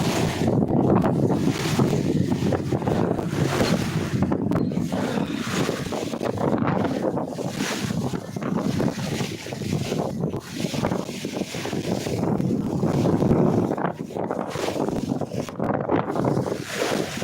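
Strong wind at sea buffets the microphone from a fishing boat on the Bay of Bengal, a loud continuous roar with gusting surges and rushing water beneath it.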